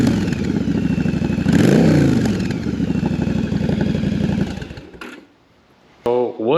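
A motorcycle engine, a bike being turned into a jockey-shift bobber, idles with a loud clattering beat, swells through a rev and drops away to near silence before a voice begins.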